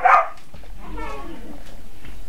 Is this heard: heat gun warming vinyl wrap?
no